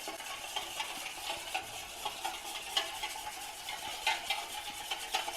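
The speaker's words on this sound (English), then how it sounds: "Now we will whisk all this together very well." Whisking baking soda, regular cooking oil and water together in a bowl: a steady run of light scraping, rattling strokes with small irregular clicks, close and moderately quiet, with no voices.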